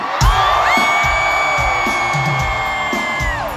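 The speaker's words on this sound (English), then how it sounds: "I'd like y'all to scream even fucking louder" A concert crowd roars and whoops loudly and continuously, yelling close and dense across the whole stretch, with thumping beats and high sustained tones sounding underneath.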